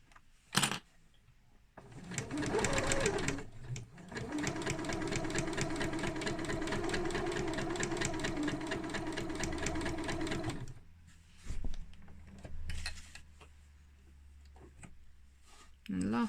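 A sewing machine stitches fabric for a zippy purse in a long, rapid, rhythmic run with brief starts and stops, close and clear, with someone talking quietly around it.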